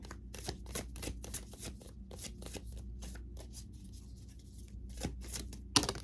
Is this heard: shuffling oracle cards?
yes